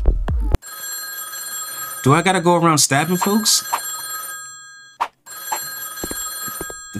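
A telephone rings in the horror game M. Stain, its electronic bell tone sounding in long sustained bursts separated by short gaps, fairly prominent, while someone talks over part of the ringing.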